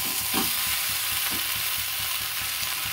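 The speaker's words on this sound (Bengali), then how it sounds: "দেখুন মশলাটা ভাজা ভাজা হয়ে গেছে" Spice paste fried with tomato for a fish curry sizzles steadily in the pan, with a soft rhythmic scraping of stirring throughout, close and moderately loud with no voices.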